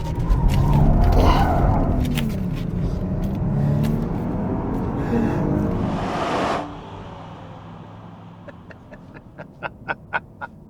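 A 2024 Genesis GV80 twin-turbo luxury SUV driving on a winding road, with a steady loud engine and road roar that drops away sharply, leaving a quiet hum and a few ticking clicks.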